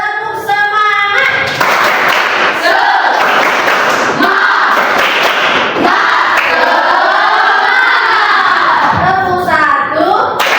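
A group of people claps together in a spirited, rhythmic classroom clap routine, loud and close, with continuous bursts of clapping and some voices mixed in throughout.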